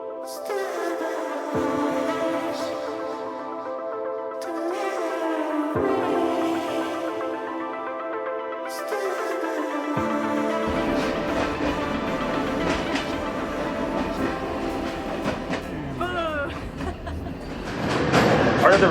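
An old passenger train running on a railway in Albania: a steady, loud rumble and rattle of the carriage continues throughout, with the pitch of the running noise shifting now and then.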